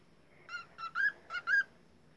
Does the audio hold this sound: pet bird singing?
yes